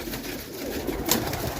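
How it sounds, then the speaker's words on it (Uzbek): Pigeons kept for sale, including flying and tumbling show birds, coo steadily in a low, continuous murmur close by, with no talk. "Uchadi, o'yin boshlagan qushlar o'zi."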